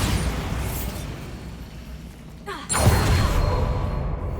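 Bombarda spell explosion in the video game Hogwarts Legacy: a rumbling game ambience, a brief whoosh, then a sudden loud burst that lingers as a heavy boom and roar.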